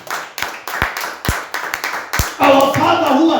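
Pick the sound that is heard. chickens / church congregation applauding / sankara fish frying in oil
church congregation applauding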